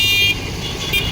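Cars stream along a busy road near Puri's sea beach, making a steady close traffic hum, and a brief horn sounds at the start and again near the end.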